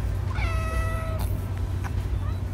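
A rescue kitten in rehab lets out one clear, close meow lasting about half a second, followed by faint scuffling and soft noises over a steady low background hum.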